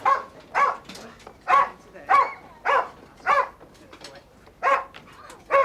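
A dog barks in an indoor home setting, about ten sharp evenly spaced barks at a steady rhythm, fairly close and loud, with no voices over it.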